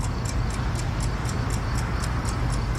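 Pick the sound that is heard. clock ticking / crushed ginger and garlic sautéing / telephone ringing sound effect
clock ticking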